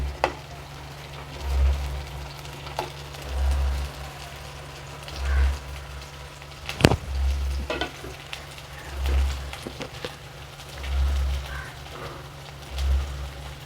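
Okra frying in a pan of hot oil, a steady close sizzle with stirring scrapes and a few sharp clatters, while low thumps pulse rhythmically underneath.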